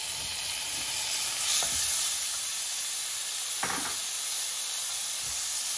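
Halved karonda berries fry in a pan with a steady, fairly loud sizzle and hiss, broken by a few soft scrapes of stirring.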